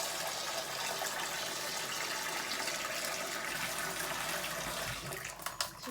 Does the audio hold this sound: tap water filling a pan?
yes